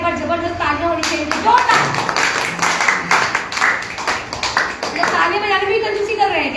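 An audience at an IMC network-marketing seminar claps in a quick, rattling burst, with an amplified voice speaking over and around the applause.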